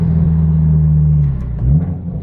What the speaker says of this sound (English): I would definitely go with the track exhaust